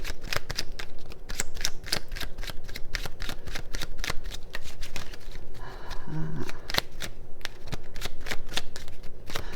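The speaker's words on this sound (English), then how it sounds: "All right, let's pull cards for the scythe, please." A deck of tarot cards is shuffled by hand, giving rapid riffling bursts and crisp snapping flicks in quick repeated rhythm, close and clear, with a short pause near the middle.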